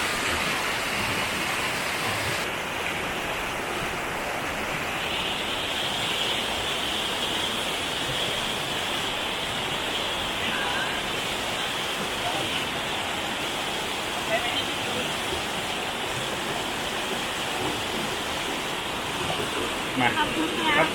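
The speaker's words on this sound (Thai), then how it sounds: "นั่นคือตัวน้ำตกวิมานทิพย์ครับ" Tad Wimanthip waterfall in Bueng Kan pours with a loud, steady broadband roar of rushing water that fills the whole stretch, swollen after overnight rain, with no letup.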